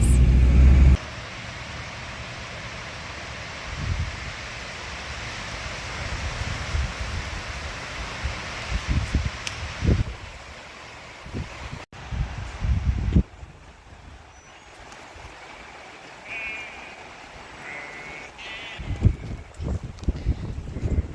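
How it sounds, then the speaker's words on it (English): Strong wind blows outdoors, a steady broadband rush buffeting the microphone with gusty bursts and thumps throughout, loud at first then fluctuating, with no voices. "It's so windy out here."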